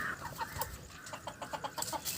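Hens cluck nearby in a backyard, a string of short, soft, rhythmic clucks and murmurs repeating through the moment, with no talk over them.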